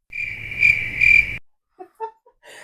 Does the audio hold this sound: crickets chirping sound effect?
yes